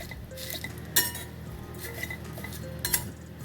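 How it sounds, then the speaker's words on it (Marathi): Tejphool spice being dry-roasted in a pan for a homemade Vidarbha masala, with a metal spoon scraping and clinking against the pan in steady stirring, a few sharper knocks standing out. "तेजफूल भाजून घ्यायचं थोडं. त्याला पण छान भाजून घ्यायचं."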